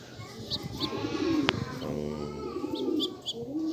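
Pigeons, a hen and a cock, cooing close by in soft repeated throaty rolls, with a few higher chirps over a faint background.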